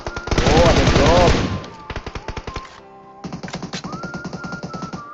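Rapid bursts of automatic gunfire from a weapon in a video game, a loud sustained volley followed by shorter repeated bursts with brief pauses between them.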